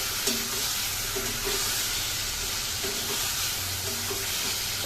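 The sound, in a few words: sautéing pointed gourd with spice paste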